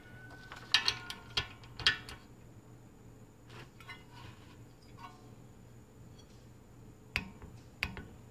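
A torque wrench tightens bolts to 165 inch-pounds on a rebuilt Troy Bilt Horse tiller engine. A handful of sharp, close clicks come in two quick clusters near the start and a pair near the end, with a quiet stretch between.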